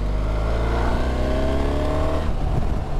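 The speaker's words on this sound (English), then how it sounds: "That's fourth gear, just going aggressively on the gas." A BMW R1300 GS motorcycle engine pulls hard in fourth gear under aggressive throttle, a loud, steady, rising drone throughout with no talk.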